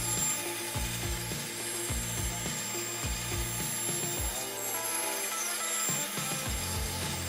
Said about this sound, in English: we're going to bring it over to the bandsaw to cut the shape